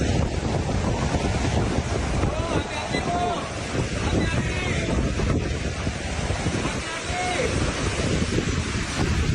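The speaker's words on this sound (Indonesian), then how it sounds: "hujan deras disertai angin kencang melanda kawasan Bogor, Jawa Barat pada Kamis malam" Heavy rain driven by strong wind on a Thursday night in Bogor, West Java, making a dense, loud, unbroken roar and buffeting across the whole stretch with no pauses.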